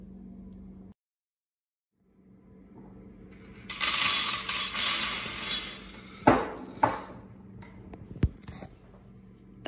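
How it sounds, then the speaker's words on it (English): Dry pasta pours into a pan in a kitchen, a rattling, clattering rush of pieces hitting metal, with a few sharper clinks and taps as it settles. "That was the sound of pasta dropping into a pan."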